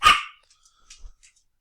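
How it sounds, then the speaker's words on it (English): A dog gives a single sharp bark at the start, fairly close and loud, followed by quiet faint rustling and a soft low thump. "you hear my dog barking in the background"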